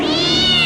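A cartoon cat lets out a loud, sustained meow, close and alone with no talking over it.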